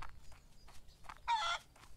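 Chickens in the farm-and-barn video game Barn Finder give a short series of soft clucks, ending in one louder, longer squawking cry near the end, heard alone without talk.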